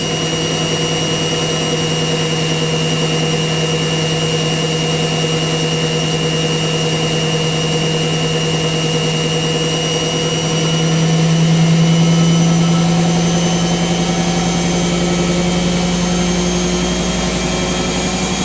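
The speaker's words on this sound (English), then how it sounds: "So I got to 800 on the intermediate spin" An Indesit WIDL102 washer dryer spinning at 800 rpm on an intermediate spin, a steady loud motor whine and drum hum with a tonal drone that swells slightly in pitch and volume partway through, no voices.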